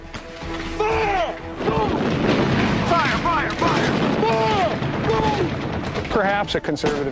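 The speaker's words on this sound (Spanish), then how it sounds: "la costa sur de California se llena de haces de luz y ráfagas de fuego antiaéreo" Bursts of anti-aircraft gunfire crackle and boom across the clip over the southern California coast, mixed with wailing, siren-like tones in a dense, chaotic soundscape.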